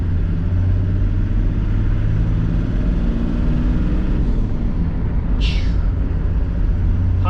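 A Toyota Landcruiser with a 1HZ diesel engine and a high-mount turbo accelerating, a loud, continuous rumbling drone heard close, with a short whistling chirp near the end.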